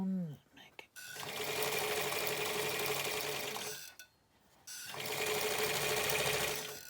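A sewing machine runs in two long steady bursts while stitching bias binding folded in half, a close, even whirring buzz with short pauses before and between the runs.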